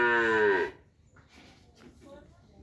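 One loud moo from a cow on a cattle farm lasts under a second at the start, then faint speech-like sounds and low background noise follow.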